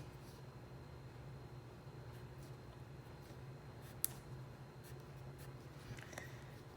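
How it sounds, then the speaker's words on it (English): A pen drawing brick lines on a Christmas card, a faint, steady scratching close by over a low hum, with one sharp tap midway. "I'm gonna draw my bricks in."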